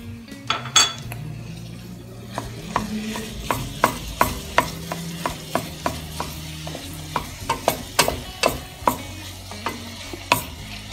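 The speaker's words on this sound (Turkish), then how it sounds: "Şöyle 5-6 dakika biberle soğanımı soteledim. Şimdi içerisine kıymamı ilave ediyorum." Minced meat is stirred into peppers and onions that have sautéed for several minutes, a spoon scraping and clinking the pan in repeated sharp strikes over a low, steady sizzle.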